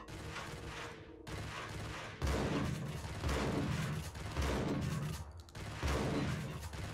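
Dense, continuous bursts of gunfire in the video game Max Payne 1, with rapid shots and explosions, loud and sustained throughout.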